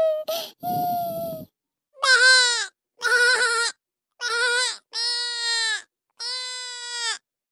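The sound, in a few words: goat bleating in a cartoon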